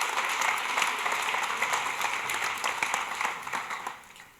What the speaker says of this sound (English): And an applause, ladies and gentlemen